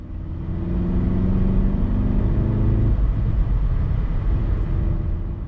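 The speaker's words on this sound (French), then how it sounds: "Voici une vidéo montrant 3000 tours à minute, puis le passage à la vitesse supérieure." A manual car's engine holding a steady drone at 3000 rpm, then the tone drops abruptly as it shifts up a gear and continues at a lower, rougher rumble; close and fairly loud, no voices.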